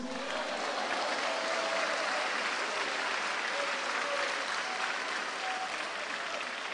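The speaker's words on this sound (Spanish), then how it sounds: "Un aplauso a Jesús" A church congregation claps together in praise during a sermon, a continuous, even wash of applause from many hands, moderately distant and unbroken throughout.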